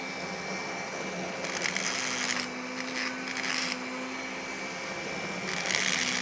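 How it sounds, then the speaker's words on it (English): A Dremel rotary tool grinds a piece of wire clamped in pliers, giving three close, harsh high-pitched bursts of a second or so each, separated by short pauses. "Use your pliers to hold the wire while you Dremel it."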